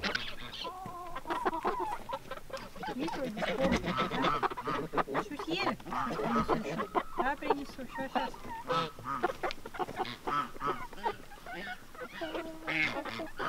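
Chickens cluck and squawk continuously nearby, a busy flock with occasional louder calls, while a person talks quietly underneath.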